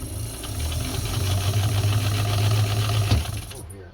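A White Rotary sewing machine running at a steady hum with a rapid mechanical chatter, building up and holding for about three seconds before stopping abruptly.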